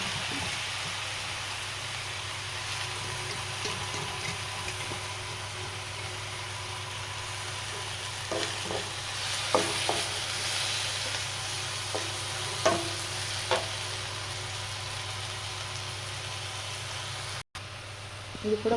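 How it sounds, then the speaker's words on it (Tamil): Coriander and curry leaves sautéing on low heat in a pan for chutney, a soft steady sizzle with occasional stirring clinks and scrapes, quiet and close with no talking. "நல்லா வதக்கி வச்சுப்பாங்க. சிம்மில் வச்சுட்டு இப்போ கொத்தமல்லி, கருவேப்பிலை போட்டுருவீங்களா."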